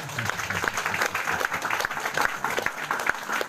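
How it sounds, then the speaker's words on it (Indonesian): A crowd claps steadily in dense, sustained applause at a church revival service, filling the whole moment, with a faint murmur of voices beneath. "Berikan boleh tepuk tangan."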